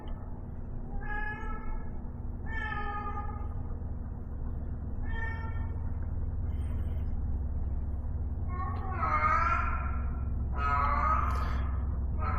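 An upset tomcat meows repeatedly inside a workshop, with drawn-out, wailing calls growing louder and more strained toward the end over a steady low mechanical hum.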